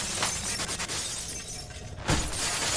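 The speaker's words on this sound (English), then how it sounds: "Break the glass." Glass shatters in Halo: Combat Evolved with a bright crashing burst early on and another sharp smash about two seconds in, loud over a dense game soundscape.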